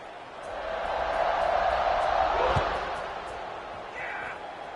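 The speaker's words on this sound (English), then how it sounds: "this crowd is buzzing after that last score" Stadium crowd noise in a college football video game, a steady broad roar that swells in the middle after a score and then eases, with a brief thump partway through.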